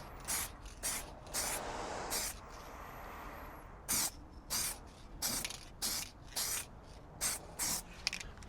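An aerosol can sprays a coat onto a masked car headlight in short, close hissing bursts, about a dozen in an irregular rhythm, with one longer spray near the start.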